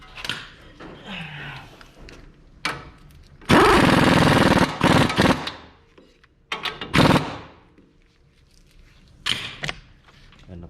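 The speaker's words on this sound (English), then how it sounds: "And tightening the nut inside." A nut being tightened on the outer tie rod of a 2006 Nissan Pathfinder, with loud bursts of rattling power-tool impacts, several separate runs with pauses, clanks of tools between them.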